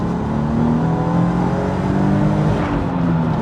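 A Volkswagen New Beetle RSI engine revs loud and close through a gear change, a dense, throaty roar whose pitch climbs steadily without pause.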